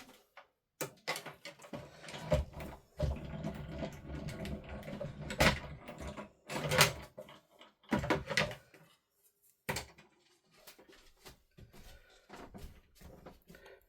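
An embossing folder fed through a manual die-cutting machine for cardmaking: a string of clunks and ratcheting thumps and a few sharp knocks, close and fairly quiet, with pauses between, and no talking.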